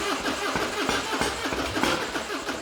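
An old Harley-Davidson Dyna Wide Glide motorcycle, long unused, cranks on its starter in a close, loud, rhythmic chug of about three pulses per second without catching.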